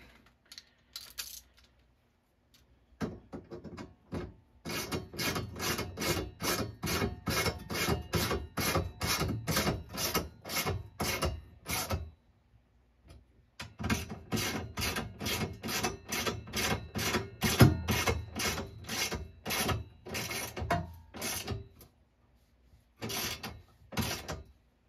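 Screws are driven into the particle board of a Journey arcade cabinet during restoration, heard as two long runs of rapid, regular clicking bursts separated by brief pauses, close and moderately loud.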